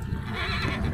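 A horse lets out a brief neigh amid the dense, noisy bustle of a busy horse market.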